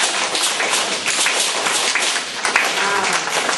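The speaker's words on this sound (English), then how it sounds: "Can you clap your hands?" Audience clapping hands after a storyteller's Yoruba shakere origin tale, a dense, bright patter of many hands close by, with a voice heard among the claps.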